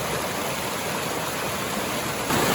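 Steady, dense rushing of a waterfall near Rishikesh, a broad continuous roar of falling water heard up close with no talking.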